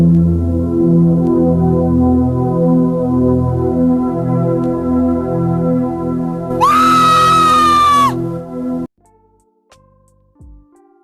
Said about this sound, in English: an extremely loud scream starts to play